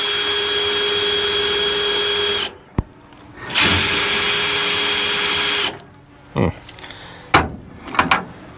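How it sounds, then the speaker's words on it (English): Power drill boring a hole in a 1950 Cadillac hearse, a loud steady whine for about two seconds, a brief pause and sharp knock, then a second long burst, followed by scattered clanks and handling knocks. "the first thing we're gonna do is drill a hole"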